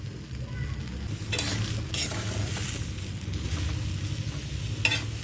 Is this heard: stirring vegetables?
yes